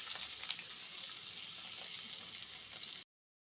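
Chopped onions frying in leftover fish-frying oil in a pan, a steady, fairly quiet sizzle that runs for about three seconds before cutting off.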